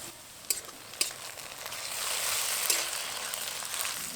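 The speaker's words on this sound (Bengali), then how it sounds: "আদা রসুন বাটা দেওয়ার পর ভালো করে ভেজে নেব" Onion and ginger-garlic paste sizzle steadily in a pan of oil while a chicken curry is being cooked, with a couple of sharp stirring clatters near the start and a fairly close, moderate frying hiss throughout.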